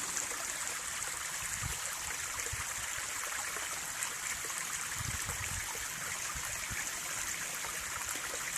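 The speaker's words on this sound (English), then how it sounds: "these are the nice little trickle waterfalls that you get in the creeks in western New York" Small waterfalls trickle in a creek in western New York, a steady, soft rushing and splashing that continues without a break at low level.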